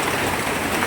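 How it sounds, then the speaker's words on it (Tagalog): Steady rain pours outdoors over a house's front stairway in Davao, a dense, even hiss of drops on hard surfaces filling the whole moment without a break. "ang init-init kanina tapos biglang umuulan"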